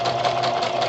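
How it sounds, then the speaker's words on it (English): A budget household sewing machine runs steadily while stitching through paper for a journal, giving a continuous close mechanical whir with a fast regular rattle throughout. "one thing I've noticed about my sewing machine,"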